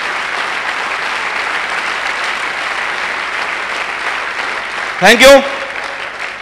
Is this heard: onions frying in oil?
no